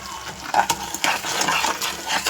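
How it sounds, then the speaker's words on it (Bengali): Brinjal sautéing in a pan with salt and sugar, stirred briskly, close clinks and scrapes of a spoon over a soft frying sizzle for a couple of seconds. "খুব ভালো করে কিন্তু কষাতে হবে"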